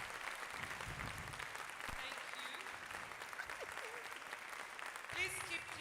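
A crowd at a spoken word poetry quarter-final contest claps continuously, a steady spread of applause with a few faint voices and whoops mixed in, holding at even volume throughout.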